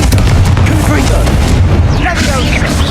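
A Confringo fire spell bursts in Hogwarts Legacy with loud, booming blasts that fill the whole stretch, while a voice speaks over the din.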